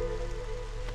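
Steady rain from a rain totem in the Marshlands of the Against the Storm video game, a continuous even patter with a low hum beneath it and no talk.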